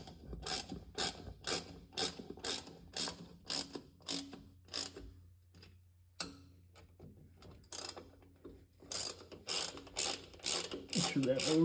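Ratchet wrench clicking in quick rapid bursts as the bolts on a Mag Hytec rear differential cover for a 2010-2018 Ram 2500/3500 heavy-duty truck are snugged up in a star pattern, several separate runs with short pauses between, close and clear.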